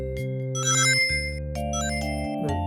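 Sonic 4 Episode 1 game music with a bright synth melody imitating FM synthesis, bell-like tones over sustained bass notes, steady and upfront with no voices.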